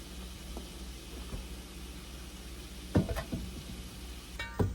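Beef tips browning in a pan, a soft steady sizzle with occasional stirring clatters and a couple of sharper knocks near the end, no voices.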